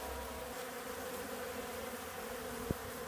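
Bees swarming over old honey frames to clean them, a dense steady buzzing hum from many insects close by, continuous with no voices.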